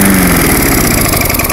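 A 3.75 horsepower Tecumseh engine on an MTD Lawn Chief mower runs steadily close by, a loud, continuous buzzing drone with a rapid rhythmic chug and no voices.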